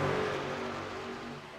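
Racing truck engines on a Las Vegas race track, a fairly faint continuous mid-pitched drone with a slight rev, steady and somewhat distant.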